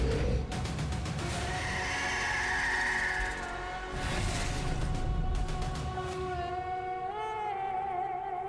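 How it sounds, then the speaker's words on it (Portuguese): A horse whinnies loudly and close with a long wavering neigh, set against sweeping cinematic game-trailer sound from Summer Game Fest 2023, with no talk. "O cavalo."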